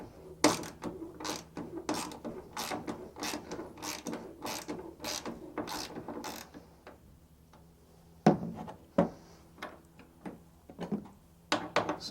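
Ratchet fitted with a T50 Torx socket working a tight tailgate bolt on a 2010-2014 Ford F-150, a run of rapid sharp clicking strokes up close, a brief pause, then more clicking bursts.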